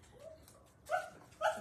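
A dog gives two short, faint yips or barks close together over a low background hum.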